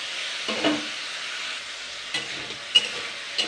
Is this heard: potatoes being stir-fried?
yes